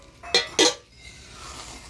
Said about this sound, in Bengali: ঢাকনাটা তুলে একটু নাড়া দিয়ে দেখি কতটা হয়েছে।